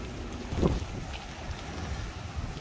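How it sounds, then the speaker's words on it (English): Light wind blowing in the aftermath of Hurricane Ian, a steady low rush and buffeting against the microphone throughout, with one brief stronger gust early on and no voices. "Well, the wind has definitely died down a lot. It's still a little windy"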